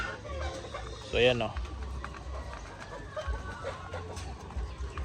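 White Leghorn chickens cluck and crow at feeding time on a farm, with one loud close call standing out early and someone talking over the flock.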